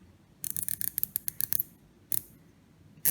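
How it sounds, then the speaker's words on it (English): A 1Zpresso J-Max coffee grinder's adjustment dial is turned, giving a quick run of small close clicks, then a lone click and another short burst near the end. "One more click."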